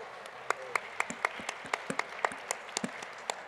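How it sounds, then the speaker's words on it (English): Sparse, scattered claps from a small audience at a Muslim community panel discussion, a few distinct hand claps spaced irregularly rather than full applause, fairly faint in a quiet room. "You can clap."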